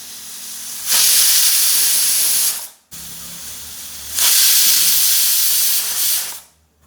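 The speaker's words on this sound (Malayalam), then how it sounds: "വീണ്ടും കത്തിച്ച് 2 വിസില്." A pressure cooker cooking pork vents steam in two loud, sustained hissing bursts, each lasting about two seconds, with a brief quiet gap between them and no voices.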